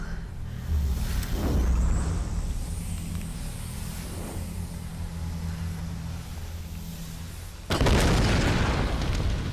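An explosion goes off in the Tomb Raider video game, a deep rumbling boom under sustained low roaring, followed near the end by a sharp louder burst of noise.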